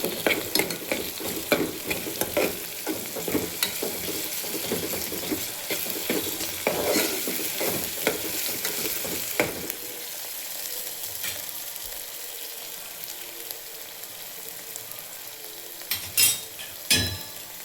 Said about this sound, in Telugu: అల్లం వెల్లుల్లి పేస్ట్ కొంచెంసేపు కలుపుదాం. మనకి కొద్దిగా వేగాలి కదా.